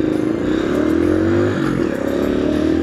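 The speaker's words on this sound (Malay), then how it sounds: "Saya bawa motor kan." Motorcycle being ridden on a road, its engine droning steadily and shifting pitch slightly as it moves, loud and close with wind and rumble, no talk.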